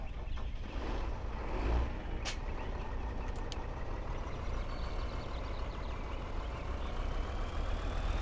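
A Kenworth truck in Farming Simulator 2013 drones with a steady, low engine rumble throughout, even and unbroken, with no talking.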